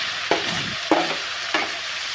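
Onions sautéing in a pan for a tomato curry, with three distinct stirring scrapes at an even pace over a soft, continuous sizzle.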